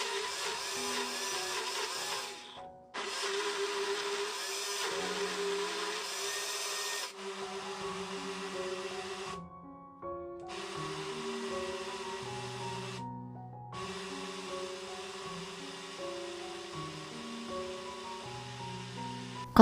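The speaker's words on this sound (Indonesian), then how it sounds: "blender kembali hingga benar-benar halus" Garlic, shallots, turmeric and coriander are ground in a blender: a loud continuous motor whine with a shifting pitch, broken by several brief stops and restarts over about twenty seconds, heard alone without speech.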